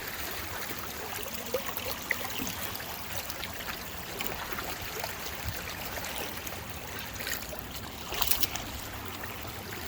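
Swollen stream after heavy rain, water rushing and splashing steadily with a few sharper splashes near the end, fairly close and continuous with no talking.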